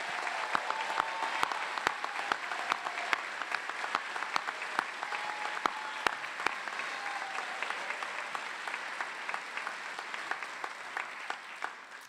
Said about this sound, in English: giving our graduates a celebratory round of applause, recognizing their amazing achievement